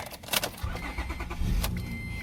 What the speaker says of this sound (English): Turn the car on, let it warm up